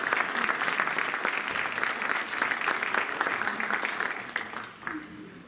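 An audience claps steadily for Fif, founder of the media outlet Bouscapé, a dense, even round of applause that carries on for several seconds before thinning out near the end.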